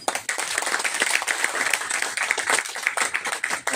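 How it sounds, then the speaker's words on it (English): Audience applause at a Startup Saturday talk, a short burst of dense clapping at moderate level with no talk over it. "Round of applause."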